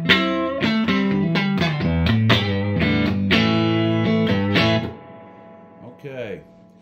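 Electric guitar through a Fender 64 Deluxe Reverb custom shop hand-wired tube amp with reverb plays a run of loud, plucked chords and notes, then rings out into a reverb tail as a voice briefly speaks at the end.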